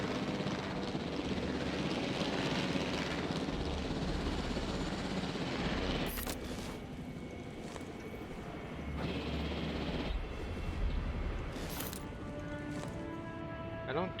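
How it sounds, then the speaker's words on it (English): Helicopter flying in the video game Jurassic World Evolution, a steady broadband rotor and engine drone that runs throughout, holding loud and fairly even with a few brief bright clicks layered on top. "I'm not the most adept at flying helicopters in this game"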